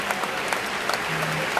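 A church congregation applauds in praise during an evangelical service, a steady wash of many hands clapping at moderate level with no voices over it.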